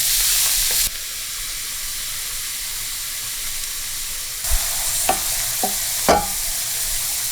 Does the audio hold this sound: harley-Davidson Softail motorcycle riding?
no